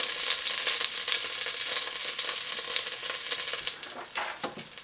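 Seared meat for cassoulet sizzling loudly in a hot pan, a dense, steady frying hiss with crackles, easing toward the end as scraping and shifting sounds break through, no speech.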